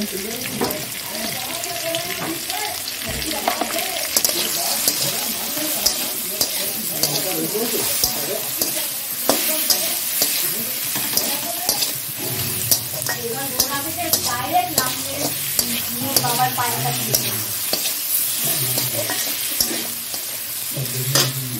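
Potatoes frying in a pan for a chicken curry, a continuous crackling sizzle with stirring scrapes and clinks, close and steady, with occasional water running and brief speech in the background.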